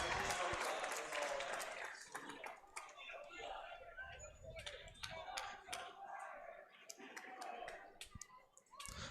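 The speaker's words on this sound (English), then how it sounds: "I can hear some Fond du Lac fans in the crowd now, too, or students" A crowd of fans murmurs and cheers at a WIAA Division 1 high school baseball sectional semifinal between Fond du Lac and Germantown, with scattered claps and shouts throughout and a voice talking over it.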